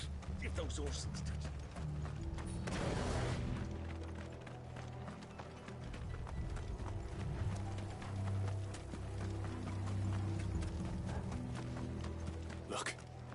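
Horse hooves clip-clop in Final Fantasy 16 gameplay, a steady galloping rhythm running throughout amid rattling mechanical game sounds, with a couple of brief whooshing bursts layered in.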